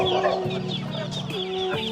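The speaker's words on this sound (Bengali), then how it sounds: "এটা কি মুরগি ভাই? হ্যাঁ, হামা মুরগি," Chickens cluck repeatedly and close by at a village market, a run of short throaty clucks over a steady background murmur.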